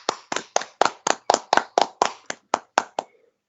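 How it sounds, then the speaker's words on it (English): A small group claps for a guest arriving in a radio studio: about a dozen sharp, evenly spaced hand claps, close and fairly loud, slowing slightly before stopping, with no voices over them. "A round of applause for Fox."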